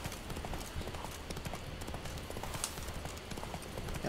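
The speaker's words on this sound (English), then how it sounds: "we'll just go on horse" Horse hooves clip-clop at a steady, continuous trotting rhythm while riding in The Witcher 3: Wild Hunt, Blood and Wine expansion, moderately loud over a constant ambient game bed.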